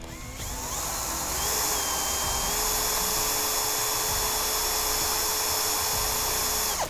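A drill with a 3.5 mm bit bores up from underneath into a sliding shutter rail, a close, steady high-pitched whine that rises briefly as it spins up and runs evenly for several seconds before stopping.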